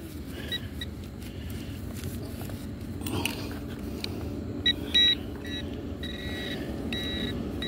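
An Equinox 700 metal detector sweeping for clad coins gives several short, high target beeps in the second half, fairly faint over steady outdoor rumble and rustling.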